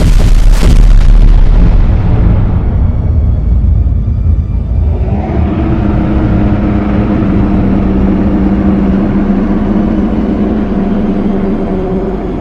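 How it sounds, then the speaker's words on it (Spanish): Torpedoes launch and explode against a sea creature in a creepypasta about a submarine, a loud booming blast followed by a long low rumbling roar with a churning underwater drone that fades slowly. "Se dispararon 4 torpedos contra la criatura."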